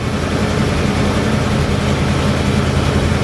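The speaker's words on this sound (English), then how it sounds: "There's that Pontiac 400 firing to life." A 1973 Pontiac Grand Am's 400 V8 idles on choke, a steady low rumbling burble that holds at a constant loud level with no voices.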